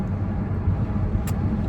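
Steady low rumble of an Audi S4 on the road, heard from inside the moving car, with a brief faint click near the end.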